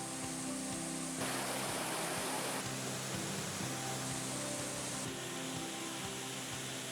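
Strong current pouring down a waterfall at Curug Pitu Sigalu in Banjarnegara, a steady loud broadband roar of rushing water that fills the whole clip without pause.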